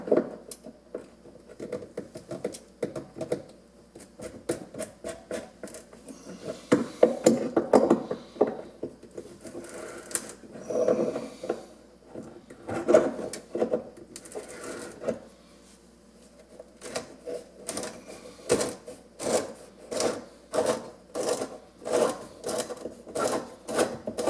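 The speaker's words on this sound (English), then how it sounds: "First, we'll loosen this nut." Loosening a nut on the pipe under a sink, heard as bursts of rapid, close metallic clicking and ratcheting that start and stop in a repeating rhythm, with no talking.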